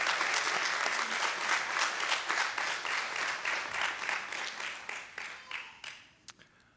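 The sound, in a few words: applause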